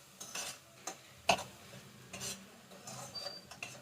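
A utensil stirs and scrapes mashed thankuni leaves with garlic and green chilies in mustard oil in a pan, with faint intermittent scraping strokes and a soft sizzle and one sharper clink.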